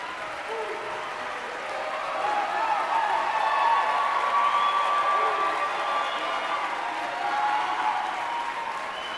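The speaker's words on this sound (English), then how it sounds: "We want to give you a round of applause." An audience at a high school music festival applauds relatives and friends of the performers, a broad, steady wash of clapping that swells slightly partway through and carries on throughout with a faint murmur of the crowd.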